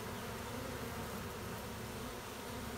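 Honeybees pour out of small holes in a car door panel during a forced abscond, a dense, even buzzing drone that stays steady and close with no talking.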